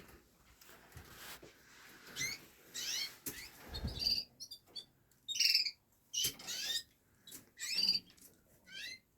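Several pet birds chirp and squeak in short bursts indoors in a birdroom, bright high calls coming and going with brief quiet gaps between them.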